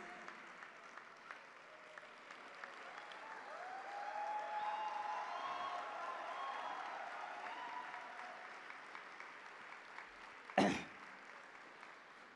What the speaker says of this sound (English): Please give a good clap to all of them. Probably a standing ovation